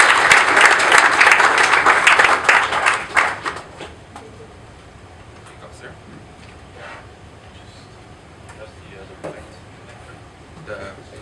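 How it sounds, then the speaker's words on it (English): An audience applauds a speaker from Lumus at an ARBA talk, with loud dense clapping for about four seconds that then fades into scattered claps and quiet room noise. "Big round of applause, everybody."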